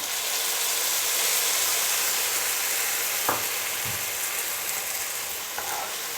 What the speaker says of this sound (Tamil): ஒரு தக்காளி எடுத்து நல்ல பேஸ்ட்டாக அடித்து வச்சுருக்கிறேன் இதை சேர்த்துக்கொள்கிறேன்